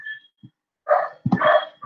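A neighbour's small dog barks nearby: a faint yip, then two loud, close, harsh barks in quick succession that end abruptly.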